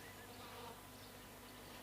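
Bees buzzing beside an English country cottage, a faint continuous drone with a few wavering higher whines over low background hum.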